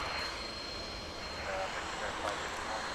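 An American Airlines aircraft at DFW International Airport gives off a continuous broad engine rush at moderate distance. The noise stays fairly even, with slight swells, and a faint background voice.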